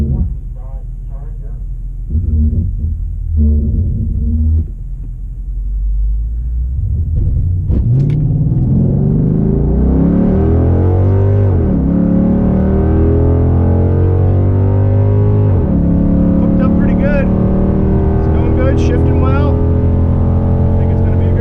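A 2006 Chrysler 300 SRT8 launches off the line with its tires spinning, the engine roaring and climbing in pitch for several seconds, loud and close, settling into a sustained high-revving drone with tire noise layered over it.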